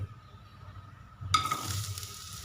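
Carrots and cauliflower tipped into hot oil for a sweet pickle: near silence, then a sudden loud burst of crackling sizzle that settles into steady frying, close by.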